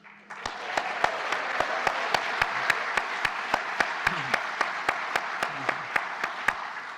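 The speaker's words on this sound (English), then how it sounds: "give them a well-deserved round of applause" Audience applause fills a hall at a student activism event, a steady wash of many hands clapping at an even level throughout, with sharp regular clicks cutting through it at a quick steady pace.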